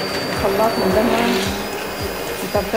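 An electric blender whirs and churns through tomatoes for a hot chili sauce, a loud motor drone with shifting pitch as the contents tumble, while someone speaks over it.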